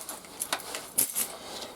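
A bunch of keys carried with a sidearm gives a few quick, light metallic jingles and clicks, close and fairly soft, in a short quiet moment with no talking.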